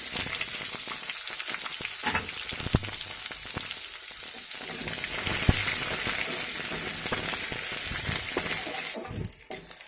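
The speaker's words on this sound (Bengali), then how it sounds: "এবারে এর মধ্যে দিয়ে দেব পেঁয়াজ কুচি" Chopped onions sizzle steadily in hot oil with cumin and curry leaves for a masala dosa filling, a continuous close crackle with occasional clinks of stirring that fades out at the end.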